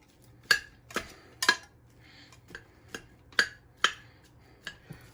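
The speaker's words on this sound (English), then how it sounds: "We're gonna start chopping this up." Knife blade knocking against a cutting board while pre-cooked grilled beef burger patties are chopped for chili: about a dozen sharp, close taps in an uneven rhythm, with no talking.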